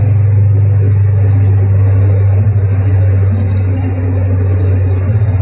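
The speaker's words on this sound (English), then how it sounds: "Listen to the birds chirping in the background." Bird chirps rise briefly from outdoors in the background, a short run of high descending tweets over a loud, steady low hum that sounds like a car or engine.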